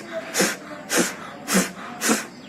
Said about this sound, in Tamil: இது பண்ணி முடிச்சதுக்கு அப்புறம் ஒரு சின்ன மூச்சு பயிற்சி